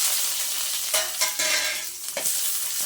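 Onions frying in a pan with a dense, continuous hiss of oil, punctuated by several brief scrapes as a spatula turns them, close and fairly loud, no speech.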